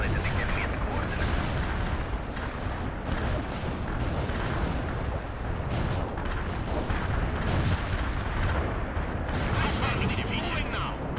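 Heavy artillery barrage in the video game World in Conflict, with dense overlapping blasts and rumbling impacts filling the whole stretch at steady loudness, mixed with game radio voices.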